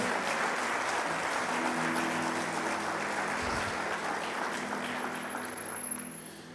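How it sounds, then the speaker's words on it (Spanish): A church congregation applauds loudly for the Lord, a dense, steady wash of clapping that holds for several seconds before easing off slightly at the end. "Dale ese aplauso fuerte al Señor"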